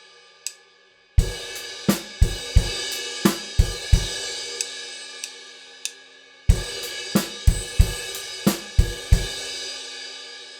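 A rock drum groove with crash cymbals on the and of 2, beat 3 and the and of 4, played as a steady kick-snare pattern, close and punchy, with ringing crashes and a brief pause before repeating.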